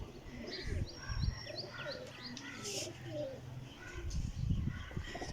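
Caged pigeons on a rooftop in the Gujarat area coo in low, repeated, rolling calls with scattered chirps, under someone talking nearby.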